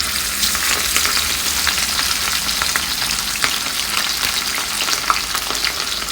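Snapper fillets for Jamaican escovitch fish fry in hot oil in a pan, giving a loud, steady crackling sizzle with scattered sharp pops throughout and no talking.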